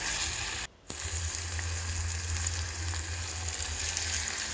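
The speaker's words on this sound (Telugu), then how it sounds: "చుక్కకూర నుంచి పచ్చివాసన పోయేంత వరకు కొంచెం సేపు ఫ్రై చేసుకోవాలి" Sorrel leaves (chukka kura) frying in a pan for Telangana-style drumstick dal, a steady close sizzle with a low hum underneath and a brief dropout near the start.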